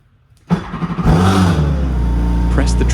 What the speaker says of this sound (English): Start the ski. It should idle normally.